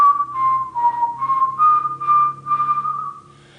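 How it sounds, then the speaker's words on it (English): A person whistles a simple, slow tune alone, a clear pure tone holding steady notes in a gently rising and falling phrase of about six connected pitches. "At first, you might try to whistle something simple like this"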